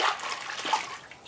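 Water poured over the wooden stock of a Mosin Nagant rifle set in a water bath, a short splashy wash of liquid heard close up and alone.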